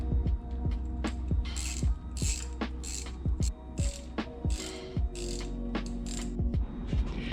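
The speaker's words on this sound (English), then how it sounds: "So now it's just time to tighten up your bolts." Rapid clicking of a ratchet tightening the distributor bolts on a 1991 Nissan 240SX, repeated bursts of close, crisp pawl ticks in a steady working rhythm.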